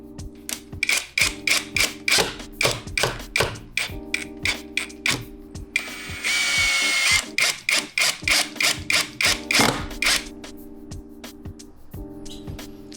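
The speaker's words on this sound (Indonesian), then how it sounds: "Nanti kan kita paku di sini." Nails are hammered into a wall with a fast series of sharp, ringing knocks in quick bursts, broken by a short hissing rub in the middle and a few final taps.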